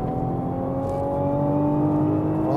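A limited-production Nissan GT-R, one of only 120 built and fitted with carbon brakes, drives under a steady, loud engine drone whose harmonics climb gradually as it pulls, heard alone without talk.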